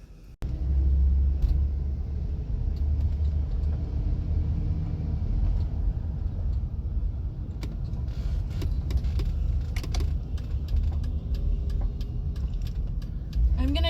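A van driving on back roads, with a steady low engine and road rumble heard from inside the cab, plus scattered small clicks and rattles, and no talking.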